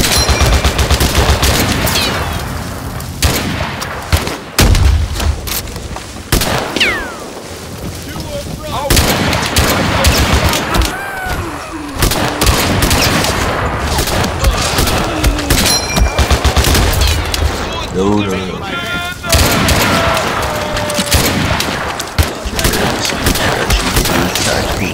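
Artillery shells firing and exploding in a video game wave-defense battle, loud repeated blasts and crackling gunfire in dense clusters with brief lulls, mixed with other game effects over the full stretch.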